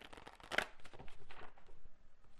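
A tarot card is drawn from a deck, making soft close shuffling and sliding card noises with a brief louder flick, quiet and without speech.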